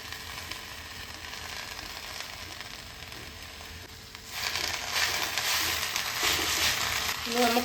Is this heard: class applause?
no